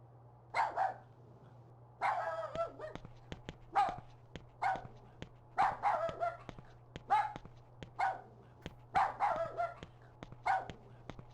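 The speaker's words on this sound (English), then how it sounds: "But the sound of a dog barked." A dog in the video game Rule of Rose barks repeatedly, about a dozen close, loud woofs in an irregular rhythm, with a low steady hum underneath.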